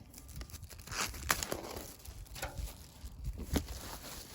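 Cellophane wrapping crinkles and tears off an iPad Pro 2020 12.9-inch box in a few close, sharp bursts, with soft handling noise between them.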